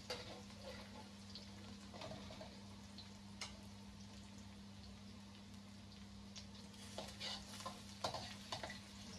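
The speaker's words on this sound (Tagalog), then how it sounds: "Hintayin lang natin mag-brown ng konti ang bawang." Garlic sizzles steadily in a hot pan for an Ilocano dinardaraan dish, a continuous close crackle with occasional stirring scrapes and small pops, no voices.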